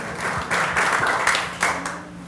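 An audience applauds at a book presentation for the novel "No hay más ciudad", clapping steadily in an indoor room, then tailing off with a final surge.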